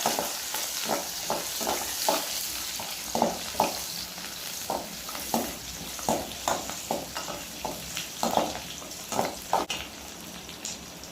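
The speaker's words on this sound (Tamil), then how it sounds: "அடுத்து பார்த்தீங்கன்னா வெங்காயம் போட்டுக்கோங்க. நல்லா கிண்டி விட்டுருங்க." Onions and dried red chillies frying in a pan for a chicken gravy, with steady sizzle and repeated scraping stirs in an irregular rhythm, close and moderately loud, no talking.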